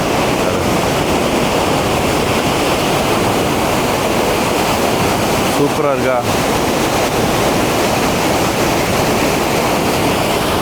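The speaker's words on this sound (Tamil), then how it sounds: "தண்ணியோட சத்தம் உங்களுக்கு கேட்கும்னு நினைக்கிறேன்." Water from a canal at Thirumoorthy Hills pours down toward the dam in a loud, steady, unbroken rush, with a brief spoken remark partway through.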